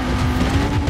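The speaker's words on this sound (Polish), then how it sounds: "Koenigsegg Regera to jest to samochód, którym teraz jadę" Koenigsegg Regera hypercar driving in Forza Horizon 4, a steady loud engine drone heard close and continuous with no talk.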